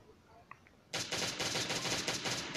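Rapid automatic gunfire from a firearm in the zombie survival game Last Day on Earth: Survival, breaking out suddenly after a quiet stretch with a couple of faint clicks and then running as a loud, continuous burst.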